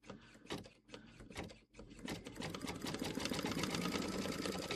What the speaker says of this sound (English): see if that stopped the noise the machine was making